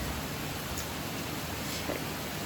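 Heavy monsoon rain in Noida, India, pours as a steady, dense, unbroken hiss with no gaps, fairly loud and close throughout.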